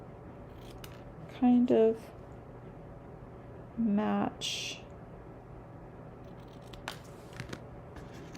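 Scissors snipping paper twice while making an Easter card, each a short burst of crisp cuts, close by, with a brief quiet voice and soft handling noises in between.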